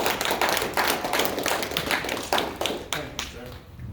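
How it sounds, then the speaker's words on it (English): Crowd at an extended family event claps for an incoming DJ, a sustained mix of many hands with some sharper, louder claps standing out. The applause thins toward the end. "Please give him a round of applause as he comes up."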